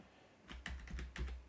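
Computer keyboard typing heard close up, a quick irregular run of crisp key clicks that starts after a short quiet pause and continues in bursts, with no talk.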